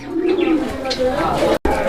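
Fancy pigeons at a farm coo in low, throaty rolls, steady and close, with a person talking over them and a brief cut near the end.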